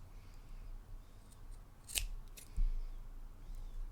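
Scissors snip through coil wire legs at the edge of an RDA vape deck while building simple 20-gauge Gplat macro coils: two sharp, close metallic clips about half a second apart in a quiet room.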